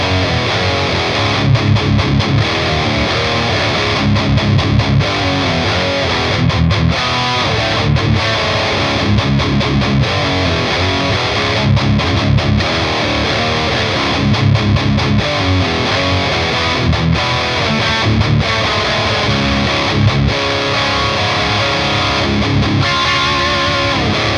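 Dunable Minotaur DE electric guitar played through a heavy, distorted lead channel, a dense, loud stretch of driven riffing with rhythmic chugging and brief gaps, continuous for the whole passage with no talking.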